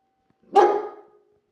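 A single sharp dog bark sounds up close, then silence before and after.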